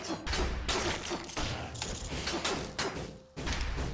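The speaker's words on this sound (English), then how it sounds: "roll and then launch the grenade" Grenade launches and blasts in the Dead Cells video game, a dense run of repeated booming hits and crackles over busy game sound, loud and steady for several seconds.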